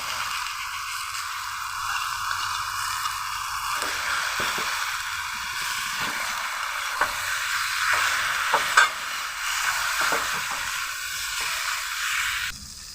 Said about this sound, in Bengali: লঙ্কা বাটা দিয়ে দিচ্ছি এখন।